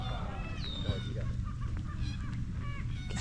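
Geese honking repeatedly at Parker Lake, several calls overlapping at moderate distance over a soft outdoor background, faint overall.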